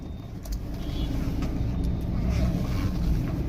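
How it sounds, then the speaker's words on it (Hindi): A car drives and turns on the way to a shop, carrying a steady low engine and road rumble with some wind noise that swells slightly over a few seconds. "एक मिनट गाइस, गाड़ी मोड़ लूँ।"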